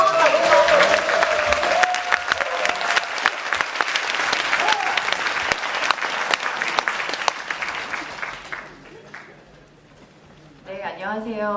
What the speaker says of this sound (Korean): 뜨거운 박수.